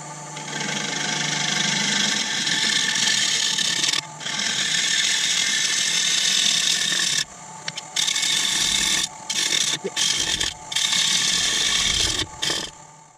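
A wood lathe spins a large sapele plate at 750 RPM while a gouge trues it, giving a loud, steady scraping hiss that drops out in several short gaps as the tool lifts off the wood.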